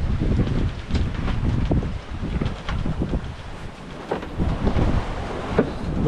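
Strong wind roars steadily over a sailboat running dead downwind on the open Atlantic, with gusty rumbling buffets and hull and water noise beneath, loud and continuous with no talking.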